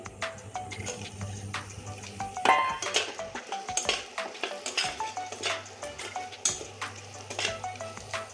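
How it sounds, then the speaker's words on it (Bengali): Fried taro tossed into a pan of onions and chili and stirred, with repeated sharp clinks and scrapes of a utensil against the pan over a low sizzle and hum, busy and close. "এখন আমি এই ভেজে রাখা গাটি কচু দিয়ে দিচ্ছি"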